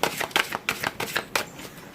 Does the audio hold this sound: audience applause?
no